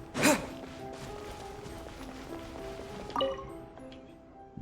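Water drips into a pool inside Genshin Impact, sounding as two distinct drops with a short ringing splash each, the first loud and near and the second softer about three seconds later, over a faint ambient hum.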